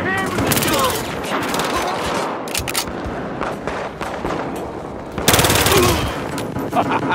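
Machine gun fire in the video game Battlefield, loud rapid bursts rattling almost continuously with a heavy boom and fresh volleys near the end, with voices shouting amid the shooting.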